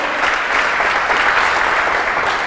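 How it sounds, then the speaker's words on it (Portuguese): A church congregation breaks into loud, dense applause during an evangelical sermon, a steady close wall of clapping with no pauses. "Você podia dar um aplauso a Ele"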